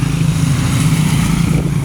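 A vehicle roars past on a rainy rural road, a loud, steady engine rumble close by with broadband road noise throughout.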